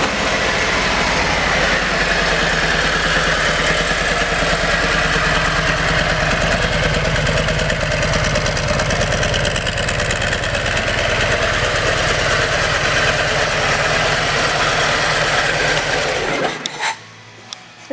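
A 2017 Harley-Davidson CVO Street Glide with a Screaming Eagle air cleaner and aftermarket exhaust idles steadily up close, a loud low rumble with no talk that holds for about sixteen seconds and then cuts off abruptly.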